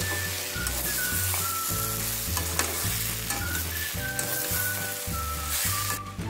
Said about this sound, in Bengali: এবার ভেজে রাখা আলু পেঁপেটা দিয়ে দিচ্ছি। এটাও ভালো করে কষিয়ে নেব।